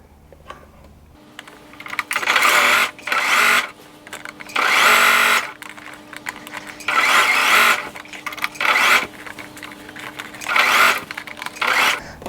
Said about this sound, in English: you're going to stitch from the top of the pocket, this side now, yeah, from here all the way down to this point